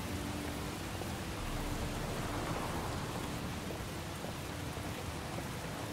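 Heavy rain falls continuously in the video game Heavy Rain, a constant loud wash with a low rumble of thunder swelling briefly midway, no voices present.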